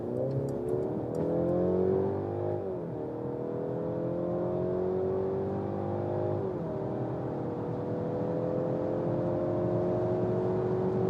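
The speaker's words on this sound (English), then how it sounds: "we start from 50 kilometers an hour and also accelerate it out as soon as the other cars are gone" A 2023 Mercedes C-Class AMG-Line accelerating from 50 km/h on a road test, the engine note rising steadily through the gears with a brief dip at a shift, smooth and continuous under road and wind noise.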